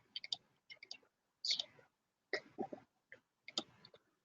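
A few quick bursts of computer mouse clicking, grouped in short clusters separated by brief pauses, close and fairly soft in a quiet room.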